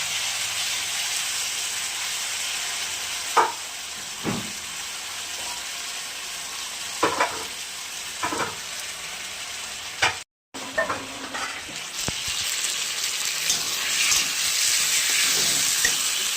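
Loud, continuous hissing sizzle of dried red chilli, cumin and spice paste frying in hot oil for a catla fish curry, punctuated by scraping clinks of stirring and a brief cut-out midway.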